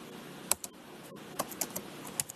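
Keys clack on a computer keyboard in a short, irregular burst of sharp taps with brief pauses between them, close and fairly quiet against a soft room hiss.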